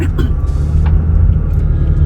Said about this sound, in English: I'm sorry if my car is loud, y'all. It's 2010.